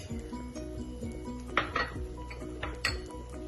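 A spoon scrapes and clinks against a pot of egg stew with tomatoes and spices, uneven metallic taps and scrapes rising over a faint background sizzle.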